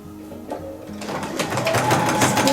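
A sewing machine runs steadily while stitching a dress seam at a 1/2 inch allowance, its motor whir building and holding close and loud after a slower start.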